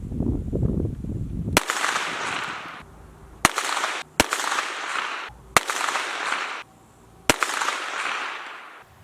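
Five sharp rifle shots ring out one by one at uneven intervals after a drop test of a Holosun 508T Gen 2 optic. Each loud crack is followed by a brief echoing tail, with no talking.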